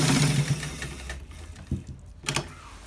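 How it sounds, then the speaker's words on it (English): Sewing machine stitching a shawl collar, a steady close motor whir for about the first second and a half, then stopping and giving way to a few short separate bursts of stitching with quiet gaps between. "So we stitch it on this part"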